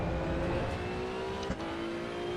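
A Datsun 240Z engine drones and revs in the racing game Assetto Corsa EVO, a sustained loud tone that rises steadily in pitch with a brief dip near the middle.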